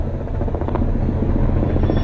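A helicopter in New York thrums loudly overhead with a steady, rhythmic rotor chop that holds throughout, with no talking.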